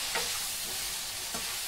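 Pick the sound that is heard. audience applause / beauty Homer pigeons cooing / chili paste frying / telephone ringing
chili paste frying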